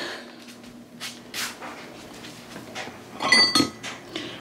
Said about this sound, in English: This is a candy dish.